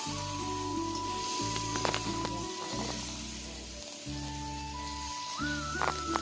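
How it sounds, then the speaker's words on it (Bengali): Cut potatoes sizzle steadily as they fry in oil, a constant crackling hiss beneath a prominent, low-pitched musical backing. "এরপর একে একে কেটে রাখা আলু দিয়ে দিতে হবে। হালকা হালকা ভাজার পর"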